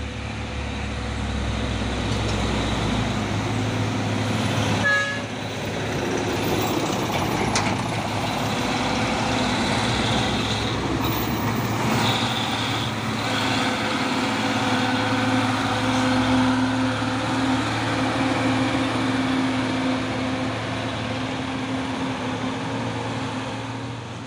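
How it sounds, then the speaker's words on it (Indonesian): A convoy of CPO tanker trucks travels along a road in a steady, continuous rumble of heavy diesel engines and tyre noise, with a brief air-brake hiss and a low droning engine tone later on, with no talking. "Dan ini ada truk tangki CPO konvoy."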